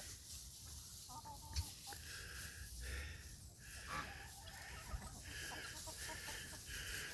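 Backyard chickens clucking softly while pecking at scattered chicken scratch mixed with sunflower seeds in a January garden, a series of short, fairly faint clucks and murmurs from several birds over a quiet outdoor background.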